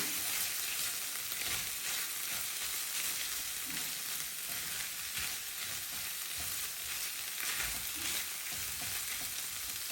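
Tomato paste, ground beef and cabbage cook together in a pot with a steady, close sizzle and frying crackle that holds evenly throughout, no voices.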